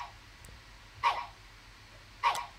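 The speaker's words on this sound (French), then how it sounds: "Ok, un chat blanc qui aboie." White cat character in the Incredibox Sprunki mod video game barks twice, short sharp yelps about a second apart over a faint background.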